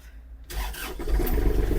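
A Kubota GL-300 mini tractor's small engine cranks and catches, then settles into a steady, rumbling idle close by.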